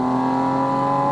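A Porsche 718 Spyder RS, with its GT3-derived flat-six engine, holds a steady, high-revving mechanical wail. The tone is loud and continuous, with no voices.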